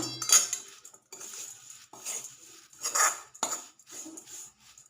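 Spoon scraping and clinking against a dish while fenugreek flour is mixed in, a series of close metallic clinks and scrapes in irregular bursts, with no talking.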